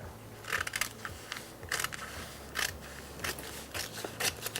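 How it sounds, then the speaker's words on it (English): Scissors cutting through scrapbook paper to cover a cake board, a rhythmic series of crisp close snips and paper crackle in short bursts, with no talking. "And I'm just going to cut."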